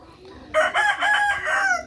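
A rooster crows once, close and loud, a strained, wavering call lasting over a second with no talking.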